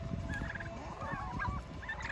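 A farm turkey gobbles in quick rattling bursts, close and fairly clear, with other poultry clucking faintly in the background and no talking.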